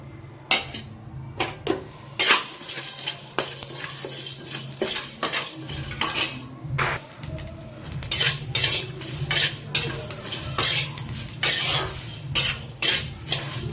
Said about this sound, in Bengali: জিরে, ধনে আর মৌরি, শুকনো লঙ্কা, গোটা গরম মশলা, লং, সব কুছ দিয়ে দিচ্ছি কড়াতে